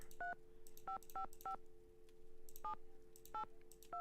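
Quick electronic telephone keypad tones beep in an irregular sequence over a steady low dial tone, close and clear, in the video game White Wolf of Icicle Creek.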